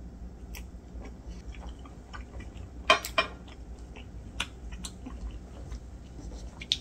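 Someone chews a lobster snack from a butter and cheese grilled lobster dish, soft moist chewing with a few crisp bites and faint clinks of utensils, close and quiet with no talking.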